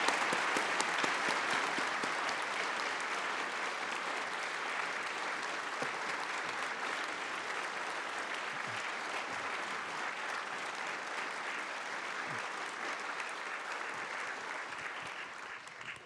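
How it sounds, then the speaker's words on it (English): Audience applause welcoming speakers to the stage at an education and science roundtable, a sustained, even wash of clapping from a large crowd that holds steady and fades slightly at the end. "please welcome the speakers to the stage with applause"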